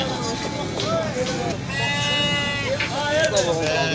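Sheep and lambs bleat at a livestock market, several overlapping wavering cries rising over a dense crowd murmur, loud and close, with people talking all around.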